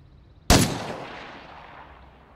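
A single sharp practice gunshot in the zombie survival game State of Decay 2, loud and close, with a long fading echo tail afterward.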